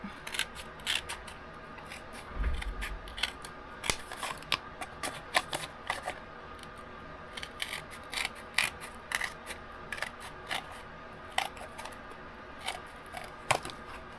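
Scissors snip through card or paperboard while an octagon-shaped insert is cut for a Scottish castle box, a close series of crisp, irregular cuts with brief pauses and soft handling rustle between them.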